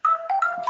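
A mobile phone ringtone plays during a physics class lecture: a short, loud electronic melody of alternating bright tones, heard alone with no talking.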